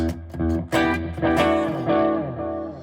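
Overdriven electric guitar playing a short, gritty, bass-heavy phrase, with echoing repeats and a reverberant tail trailing off at the end.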